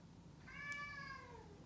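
A single drawn-out meow from an indoor house cat, fairly clear and mid-distance over a quiet room hum, rising then sliding down over about a second.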